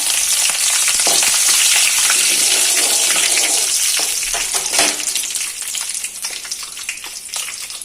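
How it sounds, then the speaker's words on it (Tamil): Mustard seeds and urad dal frying in hot oil, a loud dense sizzle with crackling pops that eases slightly toward the end. "எண்ணெய் ஹீட் ஆயிடுச்சுங்க கடுகு சேர்த்துக்கலாம் உளுத்தம் பருப்புங்க"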